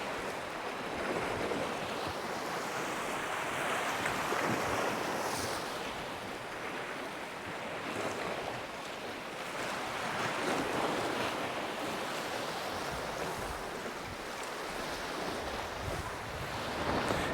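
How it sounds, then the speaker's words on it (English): Strong gusts of wind buffeting the microphone on a West Wales sea shore while waves surge and wash in the background, a continuous broad roar swelling and easing over seventeen seconds, with no talk. "Big gust of wind."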